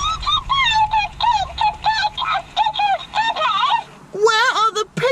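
A parrot repeating a tongue twister in its own squawky, nasal voice, with rapid warbling syllables for about four seconds, then a louder rising cry near the end, all close to the listener.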